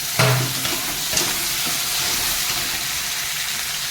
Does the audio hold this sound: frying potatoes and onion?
yes